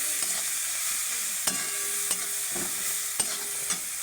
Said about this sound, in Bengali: ভালো করে সব মশলা একসাথে মিশিয়ে নেব।